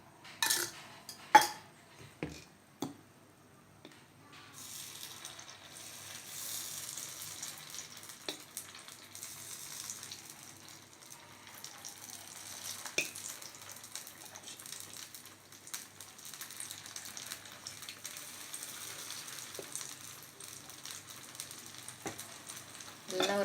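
Spiced kara kuzhi paniyaram batter fries gently in oil in a paniyaram pan, a faint steady sizzle with a few sharp clinks of utensils against the pan early on.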